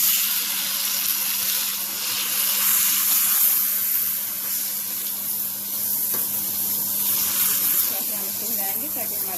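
Mooli paratha frying in butter on a hot pan, giving a steady, loud sizzle and hiss that runs throughout without a break.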